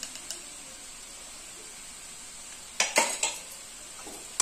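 Bottle gourd being stirred in a pan with garlic paste, soft steady sizzle underneath, then a burst of close metallic spoon scrapes and clanks against the pan near the end, no talking.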